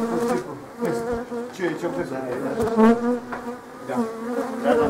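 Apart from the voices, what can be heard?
honeybees buzzing at a beehive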